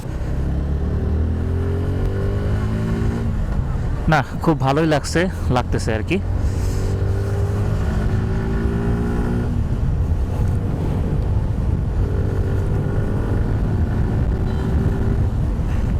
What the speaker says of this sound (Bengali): এখন বেরিয়ে বাইকটা একটু সামান্য একটু চালিয়ে দেখি